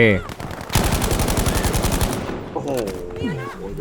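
Rapid automatic gunfire in Battlefield V rattles off in a fast, evenly spaced burst for over a second, then fades into softer game sounds while a voice speaks briefly near the end.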